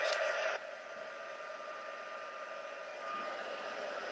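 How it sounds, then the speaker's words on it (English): Heat tool blowing hot air onto embossing on a stamped card, a steady whooshing fan hiss with a motor hum, close and continuous, no talk. "And we'll come in with our heat tool. Just heat it up a bit here."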